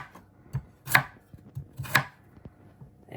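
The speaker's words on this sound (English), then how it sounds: "Gotta really put effort into this to really get this sweet potato diced." Knife chopping sweet potato into chunks on a board, a few separate sharp chops spaced irregularly, two of them loud and close.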